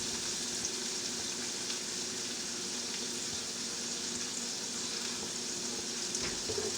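Vegetables with a sprinkle of red pepper flakes cook down in a pot for homemade tomato soup, giving a steady, even sizzle and hiss that runs unbroken throughout.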